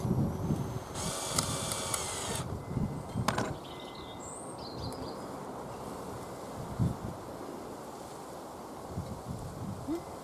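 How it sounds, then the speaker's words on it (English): A power screwdriver whines in a loud burst while screwing parts of a butterfly model together, followed by another short whirr and ratcheting, then quieter handling noise over a steady windy background. "Now all we've got to do is screw it together."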